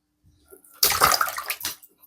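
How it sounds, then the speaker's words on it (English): A ball python thrashes in shallow bathwater, kicking up a sudden burst of loud splashing and sloshing that builds, dips, then returns in a final slap before fading; no voices. "Goodness, splashing this water, aren't we?"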